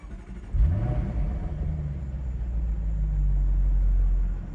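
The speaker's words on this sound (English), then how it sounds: "let's go ahead and just start the car up" A Jaguar F-Type R's engine cranks and catches with a sudden loud burst, then settles into a deep, steady rumbling idle that swells slightly toward the end.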